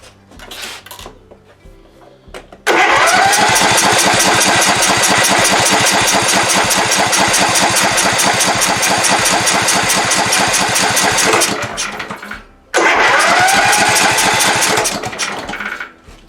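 An MTD Gold riding mower engine cranks loudly and up close with a rapid rhythmic churn, failing to catch. It cranks for about nine seconds, stops briefly, then cranks again for another few seconds without starting.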